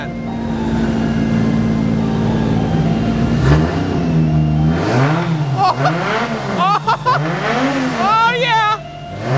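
Engine of a Zupra, a Toyota Supra build, firing up for the first time and revving repeatedly, loud and close with rising and falling pitch sweeps, while excited voices cheer over it.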